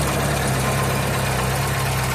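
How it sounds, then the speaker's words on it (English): A cold Reliant Robin engine idles low and steady nearby, a deep rumbling drone with a faint puffing rasp from a leaking exhaust, and no voices. "Exhaust blowing a bit, but It's even idling super low because it's cold"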